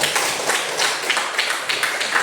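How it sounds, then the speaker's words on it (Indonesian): Schoolchildren in a classroom clap together, a brisk, fairly soft patter of many hands that continues evenly without pause. "Tepuk tangan buat kalian semua."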